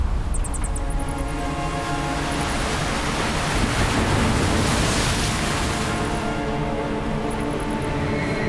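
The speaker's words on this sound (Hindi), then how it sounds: "ऐसे लग रहा है जैसे कि लहरों की आवाज है।" Waves roar and wash inside a mysterious cave, a dense, loud, rushing surge with a booming low end that swells and holds without pause, while faint high chimes ring out near the start and end.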